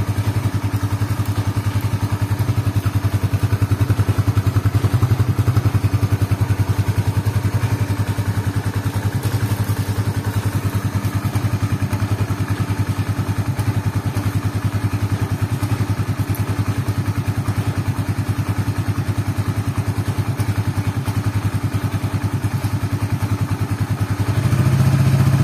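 A cold Suzuki Satria FU fuel-injected motorcycle engine idles close by, a steady low rumble with a fine rapid putter that holds unbroken for the whole stretch, loud and alone without talk.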